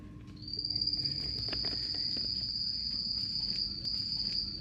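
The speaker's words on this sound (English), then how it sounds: "Can you hear the frogs?" Steady high-pitched trilling calls, likely frogs, ring from a pond inside a tropical greenhouse, holding one continuous tone with faint rustle and chirps beneath and no talking.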